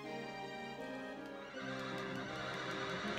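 A horse in the video game Wild Arms neighs and whinnies over in-game music, with faint clip-clop hoofbeats.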